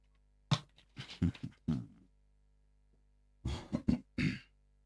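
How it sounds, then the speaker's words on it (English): Someone clears their throat in a few rough bursts, pauses, then a second series of throaty rasps follows, close and fairly loud against a quiet background. "I might have to clear my throat"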